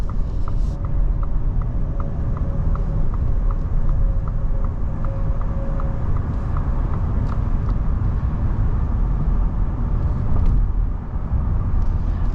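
A 2022 Ford F-150 Lightning electric pickup drives along, giving a loud, continuous low road and tire rumble with a faint high whine, steady throughout with a brief dip near the end.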